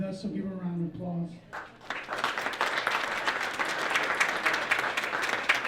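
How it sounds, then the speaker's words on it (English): A fundraiser audience for an independent film breaks into applause after a brief spoken introduction, the clapping rising quickly into a steady, moderately loud round from a seated crowd. "so give her a round of applause"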